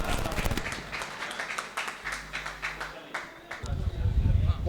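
Audience clapping welcomes a poet onto the stage at a mushaira in Lumbini, Nepal. The claps are close and uneven with a hum underneath, they thin out midway, and then a louder burst comes in at the end.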